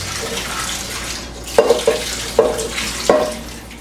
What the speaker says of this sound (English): I'm going to throw this water off.